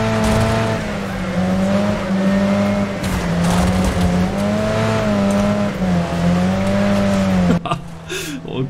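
Engine of a racing couch in a video game, a steady droning motor tone that rises and falls in pitch as the vehicle speeds up, loud and close throughout, ending in a short clatter.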